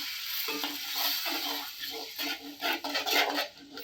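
Tamarind pulp and lemon juice are stirred into a pot of rasam, giving close, irregular scraping and clinking of a spoon against the vessel with a faint background sizzle, without any talking.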